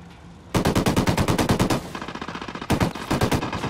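Rapid automatic gunfire in the tactical shooter video game Ghost Recon, coming in two loud close bursts of rattling shots with a short lull between them.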